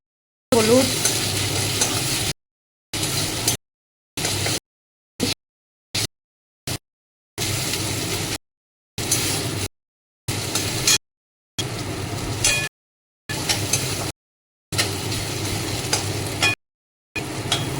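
Tomatoes, ginger, salt, cumin powder and turmeric frying for a paneer dish, a sizzling hiss with spatula stirring in the pan, heard in short choppy bursts separated by abrupt silences.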